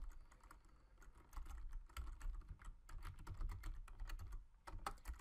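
Rapid, uneven clicking of keys on a computer keyboard, heard close and fairly quiet as code is typed, with short bursts of keystrokes and brief pauses.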